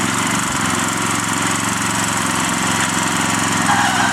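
A garden tiller working a small backyard vegetable plot, its engine droning loud and steady throughout with a constant close motor roar and no talking.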